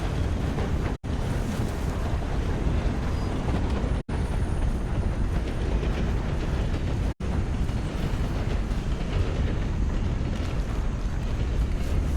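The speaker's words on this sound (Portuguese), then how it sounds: "Outro trem, cara." A train rolls past in the Red Dead Redemption II video game, a steady broadband rumble and rush that stays loud and continuous throughout, with no talking over it.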